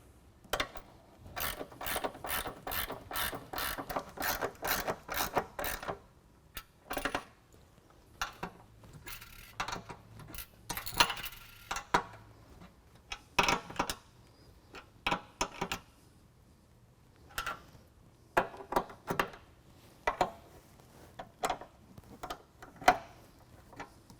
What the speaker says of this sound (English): So now I'm going to go ahead and tighten up all this other hardware.